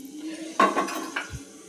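Sugar, about a cup, tipped into a pan to start a syrup for gulab jamun, giving a short clatter and scrape of metal around the middle, with a faint hum and light clinks before and after.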